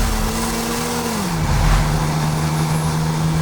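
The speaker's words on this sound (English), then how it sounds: "You can hear a lot of induction noise." A 2019 Toyota Supra's turbocharged engine gives a loud, steady induction drone from inside the car, with the engine note sliding down partway through and holding as a smooth sustained hum, with no talking.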